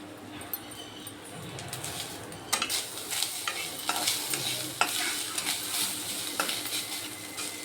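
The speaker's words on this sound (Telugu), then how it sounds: "కొబ్బరి కొంచెం పచ్చివాసన పోయే వరకు వేయించుకోండి" Grated coconut being fried in a pan for rava laddu, a low sizzle under repeated scraping stirs of a spoon against the pan, growing busier midway.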